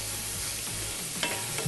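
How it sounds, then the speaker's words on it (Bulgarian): Tripe fries in a preheated pan with no fat, making a steady, close, hissing sizzle that runs throughout with a few brief crackles near the end. "Слагам в загрятия тиган шкембето"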